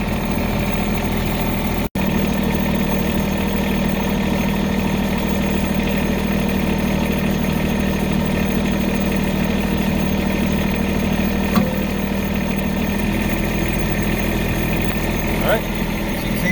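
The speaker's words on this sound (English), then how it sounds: "I've started, my hydraulics are engaged. We're going to lift the lifting arm." The diesel engine of a Bobcat 453 skid steer runs at a steady idle, close and constant, while the hydraulics lift the loader arm, with someone talking over the engine noise.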